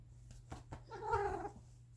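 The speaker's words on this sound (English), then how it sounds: "this is my cat, Snowball." A domestic white cat meows close by, one drawn-out, wavering call following a few short soft sounds, against a low steady background hum with no talking.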